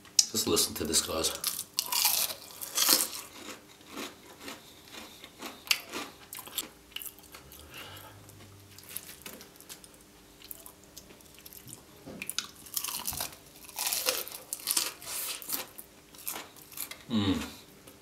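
Cheesy onion rings are bitten and chewed close to the mic in bursts of crisp crunching, with quieter pauses between bites and a few soft wet mouth sounds.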